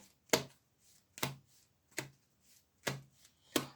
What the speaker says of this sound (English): We'll do a quick power shuffle.